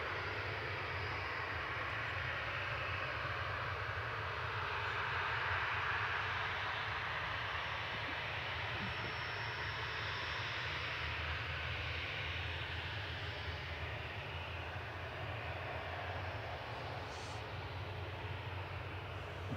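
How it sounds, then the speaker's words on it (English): Airbus A380 jet engines spinning up at Manchester Airport, a broad steady rumble and roar that holds for the whole stretch, distant and continuous with no voices over it. "The 380 engines are starting up."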